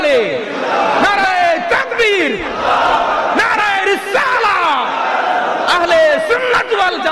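Large religious crowd at a Bangladeshi Islamic rally chanting slogans back in loud, repeated roaring bursts answering a leader's calls, voices overlapping continuously throughout.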